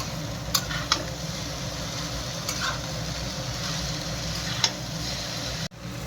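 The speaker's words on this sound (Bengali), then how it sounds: "এই যে ভালো করে চাউমিনটা মিক্স করি মশলাগুলো দিয়ে।" Chow mein noodles being stirred and tossed with spices in a pan at home, giving a steady soft scraping and sizzling texture with a few brief clinks of the utensil, and a sudden short drop near the end.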